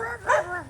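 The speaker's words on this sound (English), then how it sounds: "Who are you barking at?" A stray dog in Dumaguete City gives a single short bark in the near field, with a person's voice around it.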